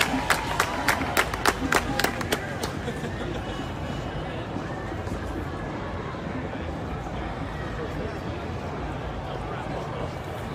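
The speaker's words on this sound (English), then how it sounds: "Yes, we are in a huge crowd." A huge crowd of protesters at a George Floyd protest in Portland, with sharp rhythmic clapping at first, then a dense, roaring wash of voices and crowd noise carrying on steadily.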